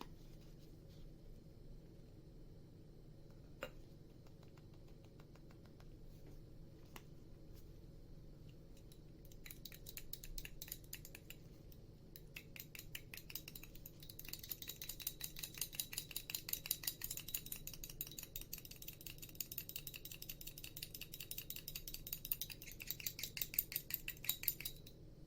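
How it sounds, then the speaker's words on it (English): A preservative-laced anti-milia serum mixture being stirred in a container, with faint clinks and scrapes of a utensil against the sides, quiet at first and growing busier and louder midway. "give the whole mixture a good stir until the serum is fully"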